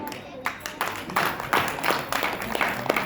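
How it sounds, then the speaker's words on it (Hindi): Applause from an audience of women at a Hindu devotional Bhagwat Katha gathering, steady overlapping claps that swell and hold for a few seconds with a murmur of voices underneath. "एक बार इनके लिए जोरदार तालियां।"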